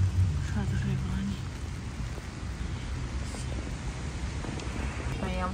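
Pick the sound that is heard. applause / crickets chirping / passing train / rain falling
rain falling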